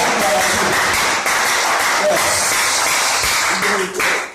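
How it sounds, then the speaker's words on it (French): A church congregation applauds during a sermon, steady dense clapping that fills the room at a constant level, with voices talking over it. "applaudissements pour les Amen"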